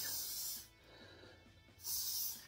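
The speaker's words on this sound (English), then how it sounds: "So you want to finish it, put a little bit of spray" Two short bursts of aerosol spray hiss onto a synthetic lace front wig, one at the start and one at the end, separated by a quiet pause.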